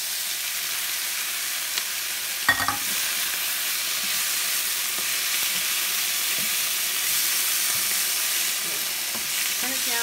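Beef and peanuts sizzle steadily in a hot pan for kung pao beef, a continuous close frying hiss broken by a brief clatter of stirring partway through.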